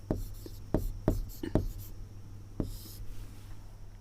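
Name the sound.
writing a word on the board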